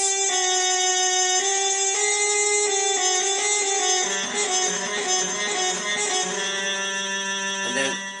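Bright retro synth tones from a music-making video game, held notes bending sharp and sliding in pitch as the pad is pushed up and down, steady and close, with no voice over it.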